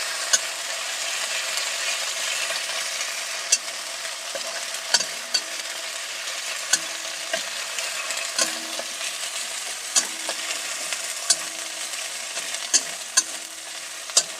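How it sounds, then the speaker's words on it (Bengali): Soybean filling with chopped green chili fries in a pan under a constant sizzle, while a spatula scrapes and taps the pan in a regular rhythm of sharp clicks. "এটা একটু নেড়ে চেড়ে ভেজে নিতে হবে।"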